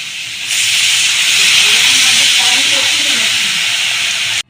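Water poured into a hot pan of fried star fruit sets off a sudden loud, close hiss and sizzle that holds steady for about four seconds, then cuts off.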